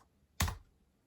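A single sharp keystroke on a Surface RT keyboard, one close, crisp click that decays quickly in a quiet room.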